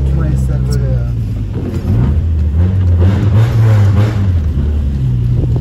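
Honda 1.6 car engine with an aftermarket exhaust, a steady deep droning rumble with slight rises in pitch running throughout, heard from inside the car while people talk over it.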